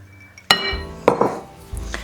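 A whisk clinks and taps against a bowl while wine is whisked into melted chocolate, giving a few sharp separate knocks at irregular intervals, close and clear, with no talking.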